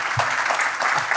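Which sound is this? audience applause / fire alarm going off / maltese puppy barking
audience applause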